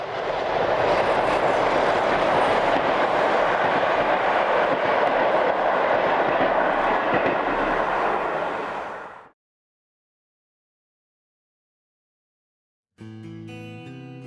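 An ÖBB class 1042 electric locomotive in older orange livery hauls a train west out of Melk, a loud broad rumbling roar that holds for about nine seconds and then cuts to silence before a burst of music.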